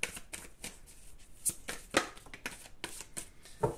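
Oracle cards are shuffled by hand during a card reading, a run of quick, close riffling slaps and papery flicks in an uneven rhythm, faint and with no talking.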